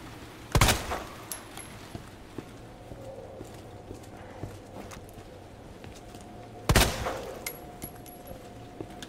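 Two sharp, loud gunshots about six seconds apart ring out against monsters in Resident Evil, each with a short echoing tail over a quiet background.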